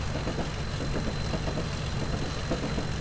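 A Class 37 diesel locomotive engine on the West Highland Line gives a steady, continuous mid-to-low rumble with a faint high whine running throughout and no pauses.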